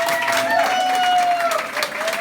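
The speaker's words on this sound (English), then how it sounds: "I want a round of applause" A round of applause from an audience celebrating a group's milestone, steady clapping filling the short span with a faint tonal ring and some voices mixed in.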